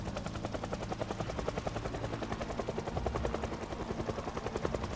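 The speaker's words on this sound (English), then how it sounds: "I thought I heard a zombie, but I think it was the helicopter itself." A helicopter flies overhead in the zombie survival game Project Zomboid, its rotor making a steady, rapid chopping thump that stays loud and constant throughout, with no voices.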